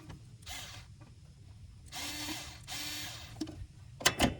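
A ratchet works on a fitting on a Toyota Yaris intake manifold, several short bursts of rapid clicking separated by pauses, close up, ending with a couple of sharp metallic clinks.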